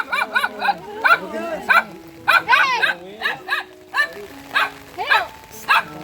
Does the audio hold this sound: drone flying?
no